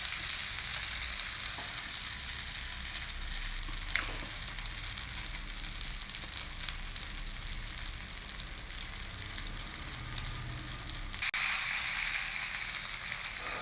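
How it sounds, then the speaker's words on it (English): Bread uthappam frying in oil on a tawa, a steady close sizzle that holds evenly throughout with a brief faint clink near the start and a slight surge toward the end, with no talking. "Just smear some oil on your tawa and place this face down first."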